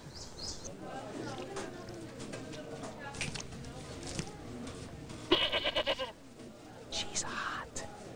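A goat bleats in an Arby's commercial, a short wavering cry near the end, preceded by someone speaking and followed by brief music-like tones.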